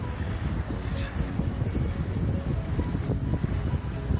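A sailboat moves along under a reefed mainsail and partly rolled genoa, with steady wind noise buffeting the microphone and water washing past the hull, with no one speaking.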